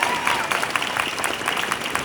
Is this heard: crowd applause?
yes